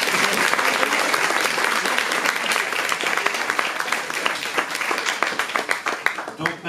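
Loud, sustained applause from a crowd in a room at a diploma ceremony, dense clapping that thins slightly toward the end.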